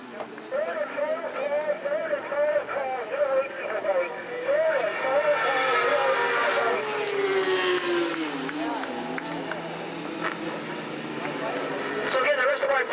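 A field of superbikes streams past the Tower of Power at WMRC, engines rising and fading as they pass at a distance while a commentator talks over them throughout.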